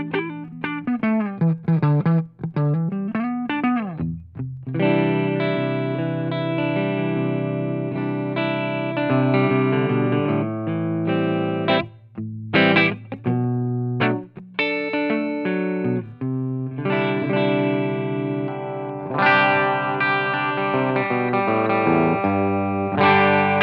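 An electric guitar plays a clean tone through a Line6 Helix modelling a Marshall cab with greenback speakers, loud and close, mixing sustained chords with short picked phrases and pauses.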